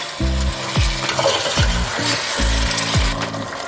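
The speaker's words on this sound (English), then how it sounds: "I'm going in with my salt. That much. Gonna mix that around." Salt is stirred into chicken curry frying in a pot, with loud close scraping strokes of a spoon in a quick uneven rhythm over a continuous sizzle.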